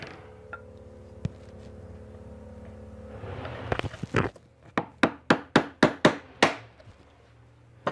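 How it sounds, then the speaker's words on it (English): A chisel driven by a mallet chops out wooden dovetails on a dressing table side: roughly eight sharp, evenly spaced strikes ring out close by, preceded by quieter scraping, with no talking. "And this one needs another chop."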